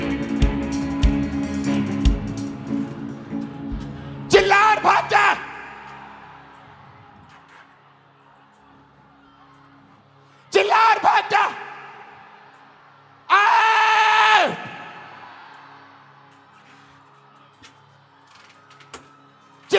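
A person screaming during a deliverance prayer at a Hindi church sermon: three loud, strained bursts of wailing cry, each about a second long, separated by quieter stretches of room noise and murmuring.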